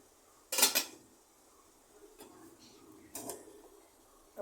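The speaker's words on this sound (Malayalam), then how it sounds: "നമ്മൾ ഇഡലി പാത്രത്തിൽ നമ്മൾ മൂടി വെക്കുകയാണ്." An idli steamer pot being covered with its lid on a kitchen stove: a sharp metallic clatter near the start, then quieter scraping and a second clank, close and brief against near silence.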